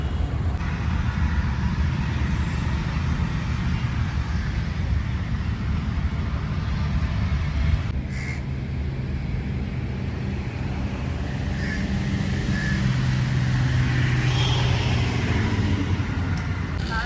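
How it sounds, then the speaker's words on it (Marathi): Street traffic at a busy Delhi crossroads near Rajghat, a continuous dense roar of engines and road noise with faint horns, steady throughout and no voices. "हा जो चौक आहे हे आहे मित्रांनो दिल्लीचं ट्राफिक"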